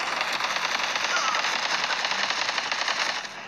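Rapid, dense automatic gunfire from the mobile shooter game Modern Combat 3 rattles on loudly and continuously for several seconds, then eases slightly at the end.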